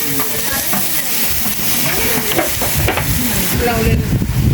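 Onions sautéing in ghee in a large pot for dum biryani, stirred until golden; loud, steady close-up sizzle and hiss with scraping stirs throughout, no clear talk.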